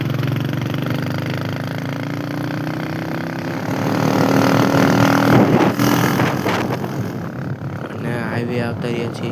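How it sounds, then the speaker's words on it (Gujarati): A motorcycle ridden out on a highway on a cold night toward a petrol pump gives a steady engine drone throughout, rising a little midway, while people talk over it. "આ બધા આપણે ગેમ રમીને હવે અમે જઈ રહ્યા છીએ બાઇક લઈને બારે."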